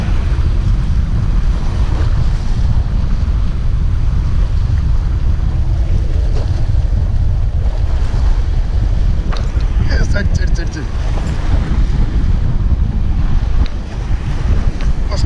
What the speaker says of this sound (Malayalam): നല്ല കാറ്റും ഇളക്കുന്നുണ്ട്.